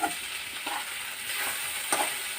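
Ivy gourd (dondakaya) pieces fry on high flame in a pan, giving a continuous bright sizzle and crackle with a few sharper pops as they are stirred.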